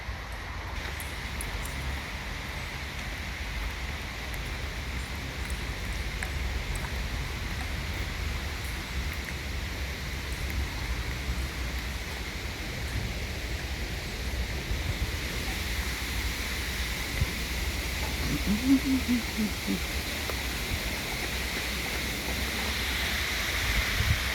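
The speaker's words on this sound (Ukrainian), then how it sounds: "такий гарний водоспад, де можна постояти собі, де можна постояти і послухати" An artificial waterfall at the foot of a sloping hillside gives a steady, broad rush of falling water that holds even and close throughout, with a slight swell toward the end.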